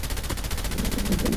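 Rapid automatic gunfire from the mobile shooter game Call of Duty Mobile rattles in a fast, even stream of shots, loud and continuous throughout.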